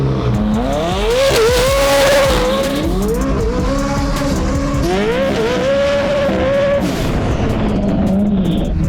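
A 1300 hp McLaren 720 GTR race car accelerates hard from first into second gear, its loud, close engine note climbing steadily, dropping sharply at each gear change, then rising again.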